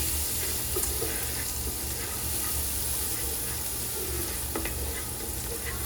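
Steak pan being deglazed with alcohol, a steady boiling sizzle with light scraping and stirring throughout, close and continuous with no talk.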